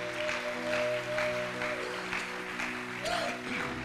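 A church congregation applauding the Lord, a steady wash of clapping from many hands over sustained organ or keyboard tones, moderately quiet and continuous throughout.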